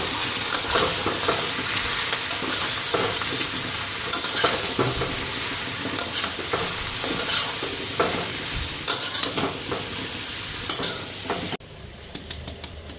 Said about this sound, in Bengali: ওইদিকে মাছের মাথাগুলি ভাজা হয়ে গেছে, লাউটাও দিয়ে দিলাম